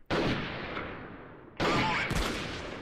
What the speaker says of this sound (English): Oh, nice shot.